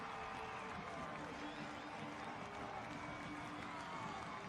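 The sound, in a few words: stadium crowd cheering after a goal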